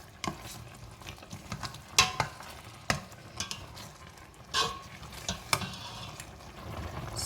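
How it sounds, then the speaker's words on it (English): Irregular scraping and knocking of a spoon stirring thick, softening marmalade in a pot, with a soft bubbling underneath. "Keep on giving it a very good stir till it is very, very soft."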